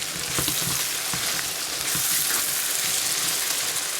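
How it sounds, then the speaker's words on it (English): Ginger garlic paste frying with browned onions for a mutton curry, a steady close sizzle filling the whole stretch with faint scraping underneath and no talk. "so we'll add the ginger garlic paste and fry it for about a minute or so"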